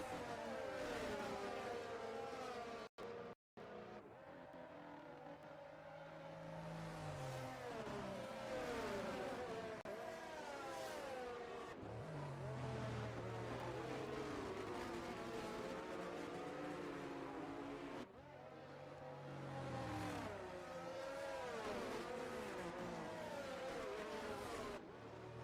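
Formula 1 cars in the F1 22 video game circling behind a safety car in Azerbaijan, engines revving and whirring steadily with shifting pitch, a brief dropout early on, continuous and fairly quiet.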